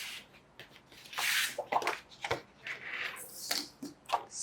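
Paper bases for photo tags being cut, a run of close, irregular snips and rustles with sharp bursts of crisp paper noise, heard alone without talk.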